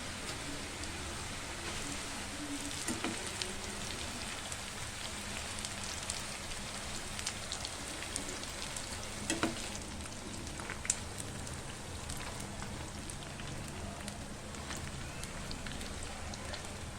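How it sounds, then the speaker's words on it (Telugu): Diamond chips deep frying in hot oil on a stove, a faint continuous bubbling hiss with scattered crackles and pops, quiet throughout. "సో ఇప్పుడు ఆయిల్లో డీప్ ఫ్రై చేసుకుందాం."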